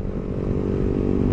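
Kawasaki Versys 250 motorcycle engine running steadily while riding, a continuous low rumble with road and wind noise, fairly loud throughout.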